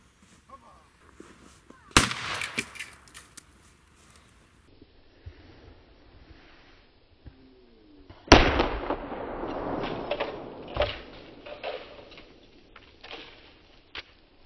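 Firecrackers bursting inside a cheap AliExpress camera housing wrapped in tape, two sharp close blasts, each followed by crackling debris and rumble, with quiet stretches between.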